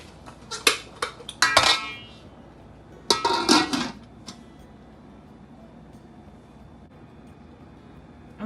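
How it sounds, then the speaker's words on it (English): Metal pot lid clattering onto a cooking pot of curry lobster and shrimp, two close bursts of rattling clinks separated by a pause, then quiet kitchen room tone. "so let's cover down our pot"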